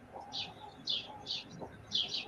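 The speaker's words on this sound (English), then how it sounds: "your birds are louder than you" Birds chirp outdoors in short, bright bursts, about four of them in a loose rhythm, quiet and somewhat distant, with faint talk underneath.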